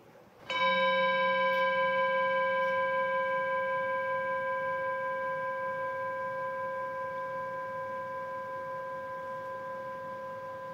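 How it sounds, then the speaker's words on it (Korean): A meditation bell strikes once and rings on with clear, steady tones that slowly fade away, alone in a quiet room. "종소리가 사라져가네도 알아차리고"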